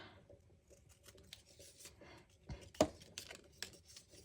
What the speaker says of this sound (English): I'm going to grab my scissors and just chop